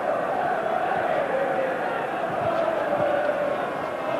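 Large football crowd at Highfield Road, Coventry, during a First Division match on a bright winter afternoon, giving a steady, dense roar of massed voices that carries on without a break.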